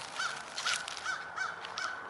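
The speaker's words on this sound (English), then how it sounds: "Those birds are just going crazy." Crows caw repeatedly in an old cemetery, five harsh calls at a steady, slightly uneven rhythm, moderately near and loud over faint outdoor background, with no talk.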